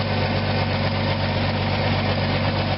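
Engine of a 1979 Ford F100 running at a steady idle with a slight tick, a loud, constant low rumble close by with no gaps.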